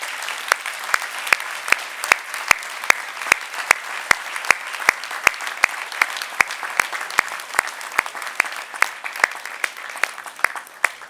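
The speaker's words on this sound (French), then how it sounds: "représenté ce soir par sa maman Michaela, que je vous demande d'applaudir bien fort" An indoor audience at a town mayor's New Year ceremony in Cuers claps in a steady, brisk rhythm, with sharp individual claps standing out over a dense wash of applause that carries on for the whole stretch.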